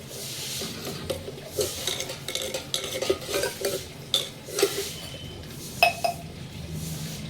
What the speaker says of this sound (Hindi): पहले बर्तन साफ कर लेते हैं